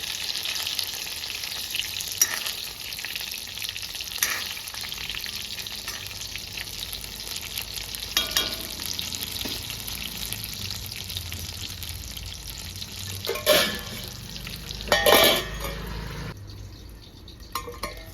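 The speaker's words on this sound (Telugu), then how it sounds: "వంకాయ ఇంకా కొంచెం ఫ్రై కావాలి" Brinjal frying in oil in a pan, a steady close sizzle with occasional stirring scrapes and sharper spatters toward the end.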